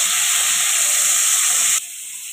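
Small chopped tomato pieces with a little salt frying in hot oil after tempering spices, giving a loud, steady sizzling hiss that drops suddenly in level near the end.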